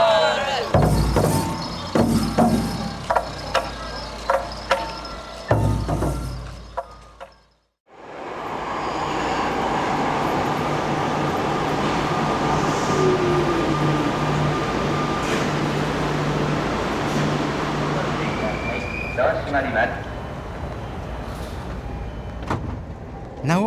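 Steady rumble and whir of a high-tech Japanese subway train running, loud and continuous after brief earlier station clatter and voices, with a short silent cut between.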